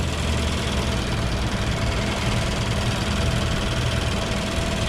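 A Mazda CX-5 2.0 Skyactiv engine idles steadily up close, a continuous mid-low hum with a faint whine laid over it and no pauses throughout.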